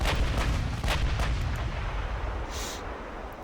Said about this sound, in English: A lot of 8-inch guns firing.